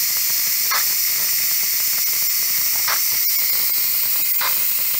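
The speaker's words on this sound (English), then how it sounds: "there you go, there's the steam" A Pampered Chef pressure cooker vents steam in a loud, unbroken hiss, with a few brief sharper spurts rising out of the steady rush and no talking.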